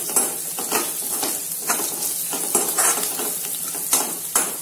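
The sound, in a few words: sautéing spices in oil for besan capsicum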